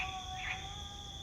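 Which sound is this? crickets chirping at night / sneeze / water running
crickets chirping at night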